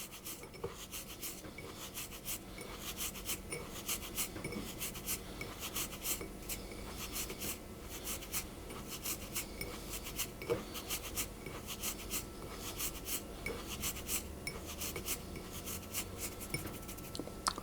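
Lemon zest is rubbed into sugar by hand, a soft, continuous gritty rasping with fine rapid scratches, quiet and close, running steadily without pause.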